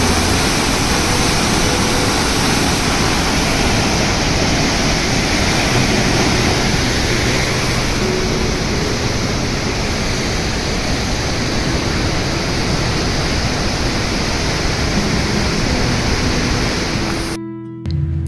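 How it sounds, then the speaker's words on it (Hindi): Waterfall in Meghalaya pouring amid green forest, a steady, loud broadband rush of falling water that holds unchanged and alone for the whole stretch, cutting off abruptly at the very end. "यह एक क्वाइट और पीसफुल वाटरफॉल है जो ग्रीनरी के बीच छुपा हुआ है"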